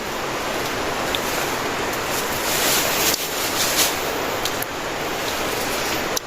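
Steady broadband rush of river water flowing, a dense, continuous wash that stays loud and close for the whole stretch with no voices over it.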